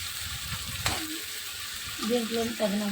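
Tomato pieces and ginger-garlic paste frying in a pan for egg fried rice, a soft steady sizzle throughout with a brief clink near the start and some stirring scrapes toward the end.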